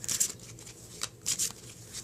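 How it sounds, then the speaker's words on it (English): Tarot cards given a quick shuffle, with a few short papery riffling bursts near the start and again partway through, quiet and close with no talking. "I'm just going to give them a quick shuffle just like this."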